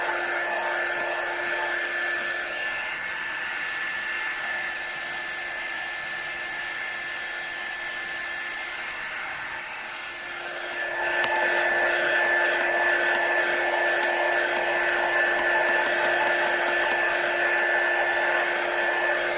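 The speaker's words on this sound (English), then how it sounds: "Just drying it with a quick dry tool" A handheld quick-dry heat tool blows steadily while drying paint on an eraser board, a continuous close whirring roar that dips briefly and then returns slightly louder, with no talking.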